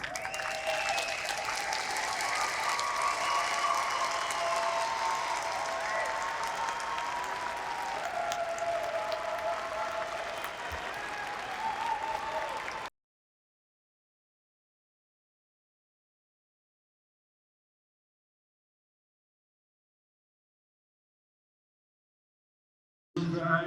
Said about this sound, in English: Graduates, please stand for your family and loved ones in the audience and salute them with their applause.